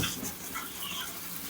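Cold tap water pours steadily over a batch of cooked fresh green beans, a continuous close splashing hiss with no talk.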